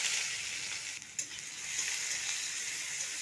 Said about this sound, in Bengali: পেঁয়াজটাকে ভেজে নেব।